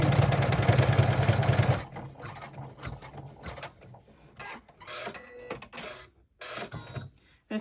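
A single-needle embroidery machine stitches with a loud, rapid mechanical hum, then stops and trims the thread in a string of short clicks and whirs separated by quiet gaps.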